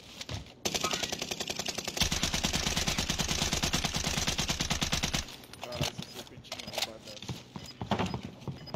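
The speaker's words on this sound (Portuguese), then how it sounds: "O cara tava atirando aqui agora" Video game gunfire crackles in a rapid, even automatic burst lasting several seconds, loud and close, then gives way to scattered single shots and clatter as someone talks over the action.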